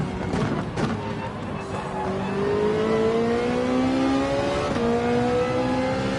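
A race car engine in Gran Turismo 7 revs loudly and downshifts, with rising and falling pitch sweeps under manual gear changes and a brief knock early on, close and dominant with no talk.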